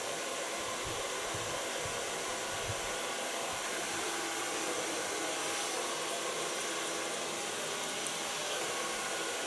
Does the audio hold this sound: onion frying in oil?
no